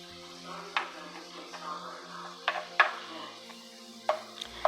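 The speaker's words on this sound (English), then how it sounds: "I just kept chopping up the meat because I wanted the meat to be a little small" A utensil scrapes and taps ground beef browning in a pan with onions and green peppers, giving scattered soft clinks and knocks over a low kitchen hum, a few sharper hits standing out.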